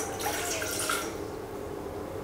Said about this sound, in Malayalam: ഏകദേശം 1 കപ്പോളം വെള്ളം ഒഴിച്ചു കൊടുക്കുകയാണ്